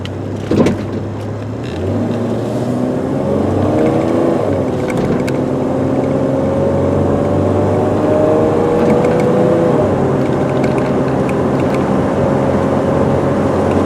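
A 1997 Toyota 4Runner SR5 4X4 V6 truck cruises on a road at about 55 mph, its engine droning smoothly and loudly, with a rising whine as it accelerates and a steady hum after, no talking.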